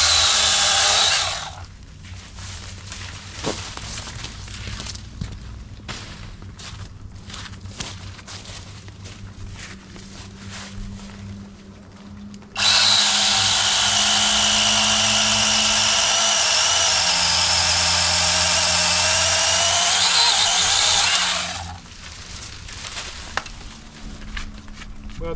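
A NaTiddy mini chainsaw cuts through basswood tree suckers, its loud high-pitched whine starting briefly, dropping to a quieter idle, then surging into a steady close-up nine-second cut before cutting back to idle.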